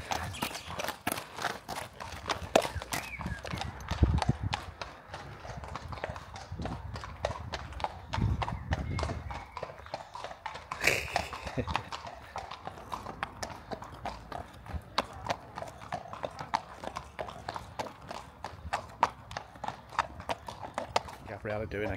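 Horse hooves clip-clop in a steady walking rhythm on a path near the beach at a Suffolk coast riding school. A rider and others talk over the hoofbeats, and a brief whinny is heard.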